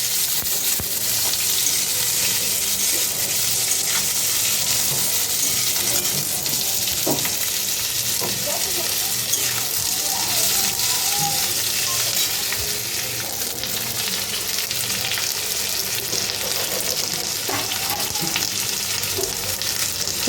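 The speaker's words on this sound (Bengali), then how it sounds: "এবার কড়াইতে দেখো পেঁয়াজটাকে একটু লবণ দিয়ে ভেজে নিতে হবে হালকা করে" Onions with salt frying in a kadai give a loud, continuous sizzle that holds steady throughout, with occasional soft stirring taps beneath it and no voices.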